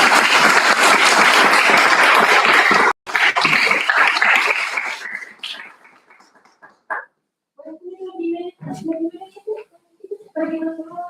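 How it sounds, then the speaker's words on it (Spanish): Loud, dense applause from a lecture audience at a geology talk, sustained for about three seconds before tapering off into scattered claps and murmuring voices. "le damos un tremendo aplauso entonces"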